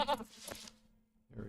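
A tame red horn goat mount in Lord of the Rings Online gives a short nasal bleat, preceded by a brief voice and followed by fainter game sounds.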